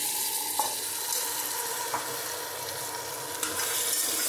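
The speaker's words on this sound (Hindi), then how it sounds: "दोनों को अच्छे से मिला लेंगे" Washed rice and lentils being mixed in a pot for khichdi, giving a soft continuous sizzle with a steady scraping stir and a few faint clinks of a spoon against the pot.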